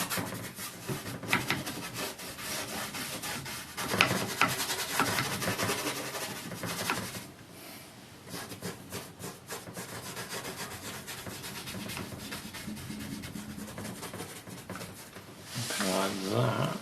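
A brush scrubs oil paint into a canvas in continuous rough, scratchy strokes close up, with a voice talking over it.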